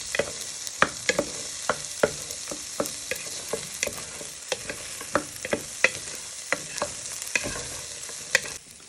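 Onions and garlic sweat in a frying pan under a steady bright sizzle, with regular spoon taps and stirring knocks against the pan throughout, close and without any voices.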